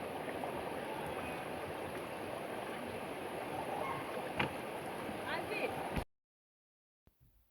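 A rainforest waterfall in Puerto Rico gives a steady, dense rush of falling water for about six seconds, then cuts abruptly to near silence.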